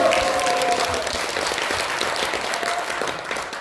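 An audience at a corporate presentation claps in sustained applause, a dense, even wash of many hands that stays loud and close throughout and fades slightly at the end.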